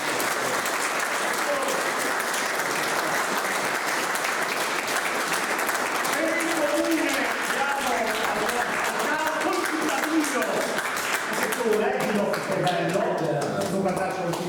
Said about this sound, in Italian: Io direi di fare un applauso intanto.